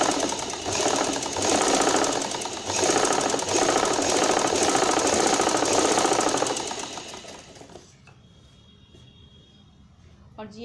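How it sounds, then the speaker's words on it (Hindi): A sewing machine runs a straight stitch along a salwar seam with pleats set into it, a loud steady mechanical whir that keeps going for about seven seconds and then cuts off, leaving quiet room tone. "ऐसे ये देखिए, सीधी सिलाई लगाना शुरू करेंगे।"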